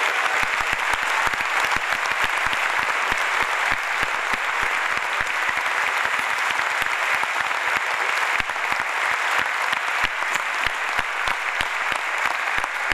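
Loud, sustained clapping from an auditorium audience at a tango sextet concert greets a founding member, with sharp individual claps standing out close to the recording point throughout.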